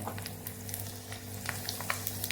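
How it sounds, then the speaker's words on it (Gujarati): Chopped garlic cloves frying in hot ghee for a Kathiyavadi curry, giving a steady close sizzle with small crackles and pops and a low pan hum underneath, without speech. "અહીંયા આપણું ઘી ગરમ થઈ ગયું છે તો આપણે ત્રણ ચારથી પાંચ લસણની જે કળી સુધારીને રાખેલી એને આપણે ઉમેરી દઈશું"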